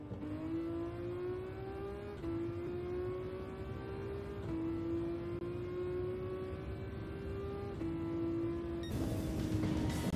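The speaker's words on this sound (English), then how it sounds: "Get around the corner and then cycle through the gears." A race car in Gran Turismo 7 accelerates through its gears, the engine pitch climbing steadily and dropping at each upshift, loud and close and continuous.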